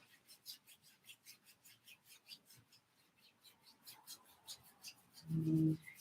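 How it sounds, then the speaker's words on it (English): Warm hands rub a bare foot with a soft, steady back-and-forth rasp that repeats in quick strokes. A brief, louder muffled bump comes near the end. "just give the foot a rub down"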